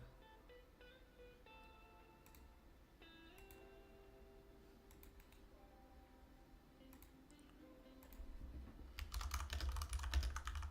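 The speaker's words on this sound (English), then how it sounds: "Sorry for the typing." Quiet, close clicking of keys on a computer keyboard in bursts of typing, faint and steady, with a louder broadband rustle near the end.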